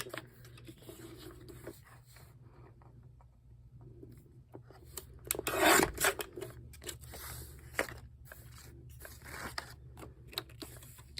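Scissors cutting a dried paper tag, with scattered soft snips and paper rustles, close and fairly quiet, and a louder rustling burst in the middle.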